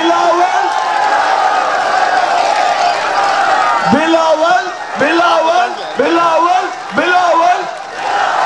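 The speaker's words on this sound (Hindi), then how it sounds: "अपने लीडर को वेलकम करें, तालियां बजा के करेंगे।" A large crowd at a PPP rally in Bahawalpur clapping and shouting to welcome their leader, a loud continuous roar of applause and cheers, with amplified speech and chanting voices cutting through it in bursts.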